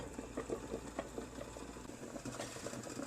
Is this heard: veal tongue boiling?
yes